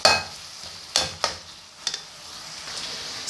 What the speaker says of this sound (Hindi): साथ साथ कीमा फ्राई हो रहा है